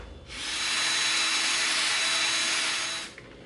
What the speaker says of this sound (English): Now we're gonna have to drill a hole through here so we can feed the scroll saw blade through there.